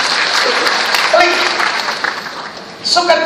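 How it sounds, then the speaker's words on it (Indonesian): A congregation at a sermon gives hearty applause, a dense wash of clapping throughout with a voice faintly heard and a brief swell near the end. "Berikan tepuk tangan yang meriah"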